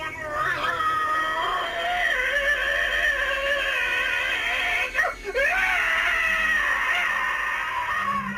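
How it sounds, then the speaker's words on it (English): A man screams loudly and continuously during a hypnotic regression session, captured on a home video camera; the sustained wailing cry runs nearly unbroken with a brief break midway, close and strained. "He was literally screaming so loud that he could not hear me give him suggestions to ease the pain."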